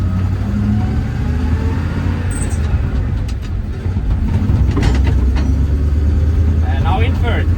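Inside the cab of an old military Ural truck moving in second gear, a loud constant low engine rumble and rattling vibration continue under someone talking.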